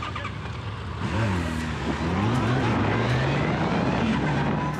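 A speeding car tears past on a 50 km/h road, its engine rising and sweeping by loudly, with steady traffic noise behind it.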